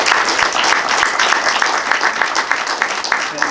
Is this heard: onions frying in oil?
no